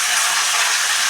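Spinach greens tossed into hot oil tempered with black cumin and a dried chili, giving a steady, loud bright sizzle with no pauses or talk.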